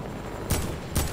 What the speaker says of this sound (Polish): No, strzelam w niego.